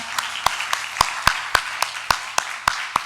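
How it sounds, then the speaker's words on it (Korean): A church congregation at Sunday worship claps together in a brisk, regular beat, about a dozen crisp, loud claps evenly spaced over a soft background murmur. "하나님께 영광의 박수 올려드리겠습니다."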